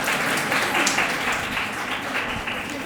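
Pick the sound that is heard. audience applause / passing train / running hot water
audience applause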